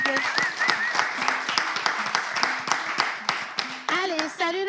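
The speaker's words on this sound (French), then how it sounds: "Est-ce qu'on peut applaudir la trace, s'il vous plaît?" A studio audience claps in a dense, sustained round of applause, close and lively, with voices talking and calling out over it.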